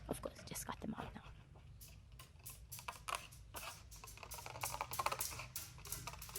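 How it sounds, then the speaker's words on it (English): Pet Charlie's paws click and tap on a hard floor in quick, light, irregular patters, faint and close, under soft whispered talk. "Can you hear Charlie's little paw tic-tacs on the floor?"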